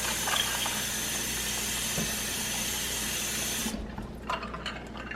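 Fresh tap water runs steadily to rinse a Berkey water filter, a loud continuous rush that stops abruptly near the end and leaves a few small drips and clinks.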